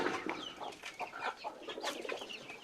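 Chickens cluck close by in a backyard coop, a busy overlapping run of short clucks and calls lasting throughout, with no talking.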